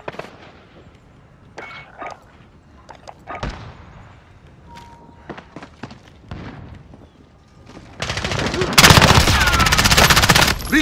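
Call of Duty: Modern Warfare gunfire in a Demolition match: scattered sharp single shots for several seconds, then a loud sustained burst of rapid automatic fire dominating the final few seconds.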